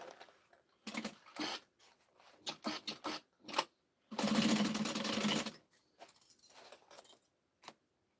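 A sewing machine stitches pouches in short bursts, then one longer steady run, its close whirring broken by pauses and small clicks of handling, with no talking.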